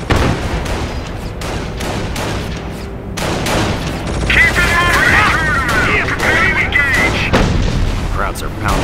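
Artillery and gunfire from the Company of Heroes strategy game pound a forward emplacement, heavy booms and bursts of shots rolling continuously at close range, with a voice speaking over the battle.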